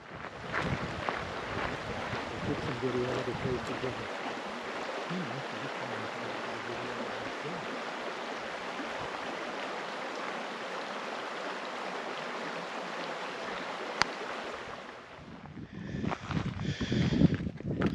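A young Colorado River near its headwaters in Rocky Mountain National Park, running as a small stream; steady broadband rushing water fills the whole stretch, with some wind buffeting and a brief rustle near the end.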